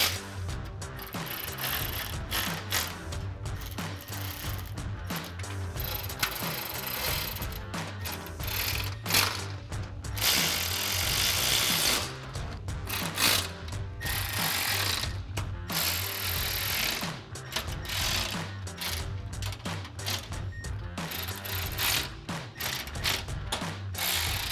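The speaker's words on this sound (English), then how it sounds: "we're gonna take a 4mm Allen socket and a 10mm wrench and tighten down all of those bolts that we put in hand tight" Bolts on an N-Fab Modular Roof Rack are tightened down with a 4mm Allen socket and a 10mm wrench, giving steady ratcheting clicks and mechanical clatter that run continuously with no talk.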